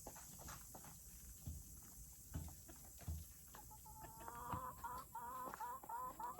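Backyard chickens clucking softly in a garden, a faint scatter of short calls that grows busier toward the end over a quiet outdoor hiss.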